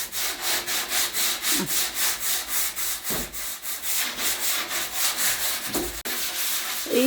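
Steady rhythmic sanding of wood, a scraping rasp repeating in quick back-and-forth strokes, close and continuous with a few brief knocks.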